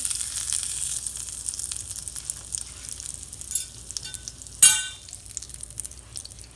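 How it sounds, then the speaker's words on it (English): Burgers frying and sizzling in a pan, a steady crackling hiss with a brief louder clink or scrape of a utensil near the middle, no voices. "the burgers smell wonderful, so I'm going to flip that"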